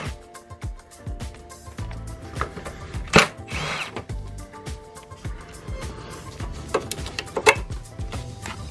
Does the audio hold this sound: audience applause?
no